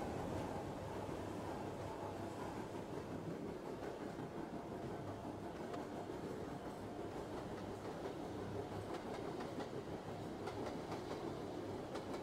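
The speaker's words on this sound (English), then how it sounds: "This is a Brooklyn-bound A Express train." An R160A A Express subway train in Trainz Simulator 2012 runs steadily, its continuous rumble and rolling wheel noise holding at an even loudness throughout, with faint rail clicks and no voices.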